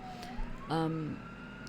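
An ambulance siren from a visual novel video game sounds as a short synthesized wail that rises and falls under a quiet music bed, and a burst of layered tones cuts in briefly partway through.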